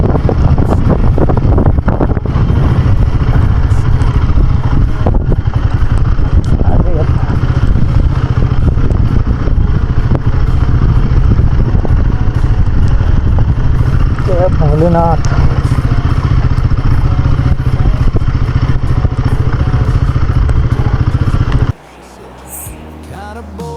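Motorcycle ridden in rain on a slippery mountain road toward Gunji, engine droning steadily under heavy wind rush and buffeting for about twenty seconds, with a rider speaking briefly, before the noise drops away abruptly near the end.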